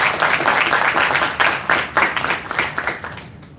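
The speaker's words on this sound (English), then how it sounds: "give a round of applause to all of our" A conference audience in Harlem claps together in a dense, sustained burst of applause that stays loud and then fades toward the end, with no voices over it.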